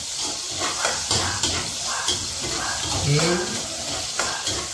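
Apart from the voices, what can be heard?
chopped onion sautéing in a pan for ginisang ampalaya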